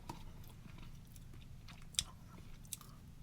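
Faint close crunching of a sweet biscuit from an Italian Alpine army 24-hour ration, with a few sharp bites and soft chewing at irregular intervals in a quiet room.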